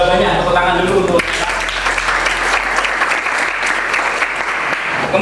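A classroom of students breaks into brisk applause during a mathematics lesson on exponents, loud and close for several seconds, following a short stretch of speech at the start.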